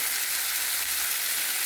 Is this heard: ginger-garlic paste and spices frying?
yes